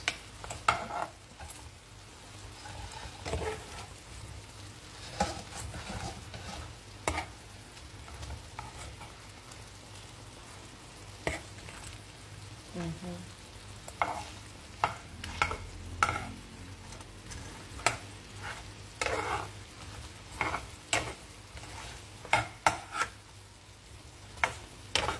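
Fried chicken being stirred through honey lemon sauce in a pan, with soft scraping and sticky rubbing plus sharp clicks from the utensil, moderately close and without talk.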